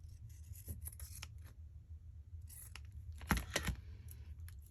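Pinking shears cut lace in quiet snips, a few scattered crunches followed by a louder pair of cuts, heard close in a soft room with low background hum.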